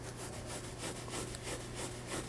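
Brush scrubbing leather cleaner into a perforated leather car seat in a close, quiet rhythmic rubbing with repeated strokes.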